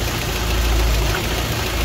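A car engine runs steadily at wide open throttle while boost, MAP and baro sensors are being tested, giving a continuous loud low rumble with no talk.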